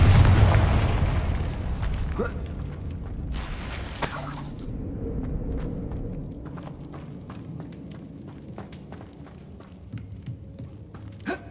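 In the Hogwarts Legacy video game, the Confringo explosive spell sets off a heavy booming blast that rolls off slowly, followed by a sharper burst and crackling debris.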